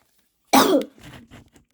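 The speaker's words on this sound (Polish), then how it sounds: "ja mam trochę kaszel" A single sharp cough or throat-clear, close and loud, followed by a few softer, breathy sounds.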